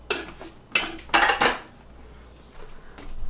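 A pot being washed by hand gives several sharp metallic clanks and scrapes close by, spaced irregularly, followed by quieter rinsing sounds.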